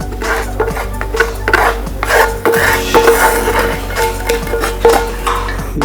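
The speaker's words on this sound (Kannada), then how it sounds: "ಈ ಅನ್ನ ಹಾಕ್ಬಿಟ್ಟು ಇದರ ಮೇಲೆ ನಾವೇನು ಒಗ್ಗರಣೆ ರೆಡಿ ಮಾಡ್ಕೊಂಡಿದ್ವಿ ಆ ಒಗ್ಗರಣೆ ಹಾಕ್ಬಿಡೋಣ" Cooked rice for garlic ghee rice is tossed with a poured tempering in a wide plate, making close, repeated rubbing, scraping and light clinking of a utensil against the metal with no speech.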